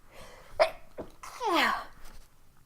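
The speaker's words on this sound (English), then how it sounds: "I'm going to sneeze in a minute." A man sneezes just before starting a gaming session of Orwell, with a sharp sharp intake and quick catch followed by one loud explosive sneeze, close to the microphone, then quiet breathing.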